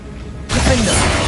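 A Bombarda spell explosion in Hogwarts Legacy bursts in suddenly after a quiet moment, a loud broadband blast with a shattering, crumbling tail that stays heavy to the end.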